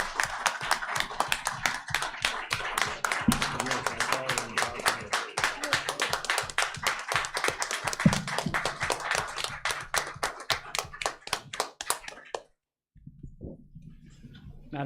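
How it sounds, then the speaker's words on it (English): A school board meeting audience claps for a student receiving a scholarship: a loose, fairly close round of individual hand claps lasting about twelve seconds before stopping abruptly. "So if we can give a round of applause, please."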